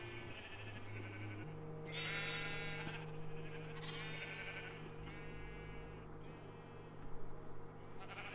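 Minecraft sheep bleat several times over a steady background hum, with a few wavering bleats at uneven intervals at moderate volume.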